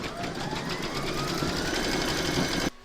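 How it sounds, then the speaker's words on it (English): An embroidery machine stitches a round on an in-the-hoop apple coaster, a steady fast mechanical whirr with rapid needle pulses that runs close and even before cutting off abruptly near the end. "Pop your hoop into your machine and stitch round number 3 to secure it."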